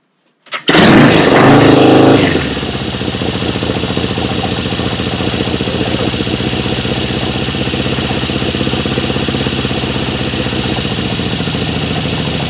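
A Norton Commando motorcycle engine fires up with a loud burst, revs for about two seconds, then settles into a steady, close, rhythmic idle that continues alone.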